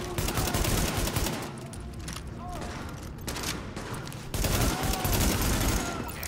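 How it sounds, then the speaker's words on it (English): Sustained gunfire from The Division, with a dense, continuous burst of automatic shots and echoing reports. A voice speaks over the shooting. "The escort party's taking heavy fire from the roof."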